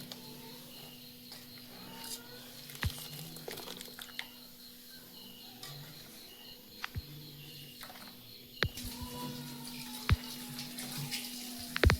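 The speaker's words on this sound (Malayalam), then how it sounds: "ഇത് നമുക്കൊന്ന് നന്നായിട്ട് ഒരു രണ്ട് പ്രാവശ്യം കഴുകി വാരിയിത്ത വെള്ളമൊക്കെ ഒന്ന് പിഴിഞ്ഞ് മാറ്റിയെടുക്കാം" Soya chunks are washed in a bowl of water and squeezed by hand, giving soft, quiet splashing and dripping with occasional sharp clicks and knocks from handling the bowl.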